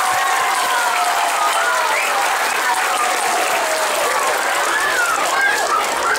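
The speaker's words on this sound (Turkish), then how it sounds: "Bir alkışlayalım onları." Crowd at a 30 August Victory Day centenary celebration in Başakşehir claps loudly and continuously, a thick sustained applause with bright whistles or shouts weaving through it.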